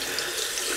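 A bathroom tap runs in a steady, close hiss of water into a sink, warming up a Gillette Tech safety razor before a shave.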